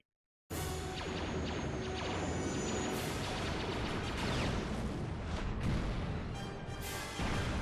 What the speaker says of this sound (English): they explode the mining asteroids